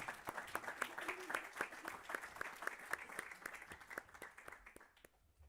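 Audience at an international education forum applauds, a modest group clapping in a quick, fairly regular rhythm at moderate distance, gradually fading out.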